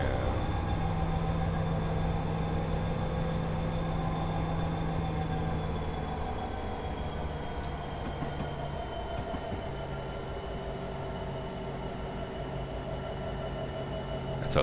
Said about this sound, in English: That's a long ass train.